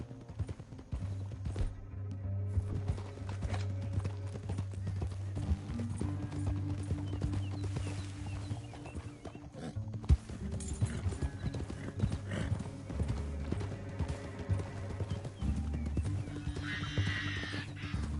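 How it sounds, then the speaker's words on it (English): Horse hooves clip-clop in a steady rhythm with occasional neighs in Red Dead Redemption 2, set against game music and ambient sound, moderately near throughout. "Up here, get off your horse."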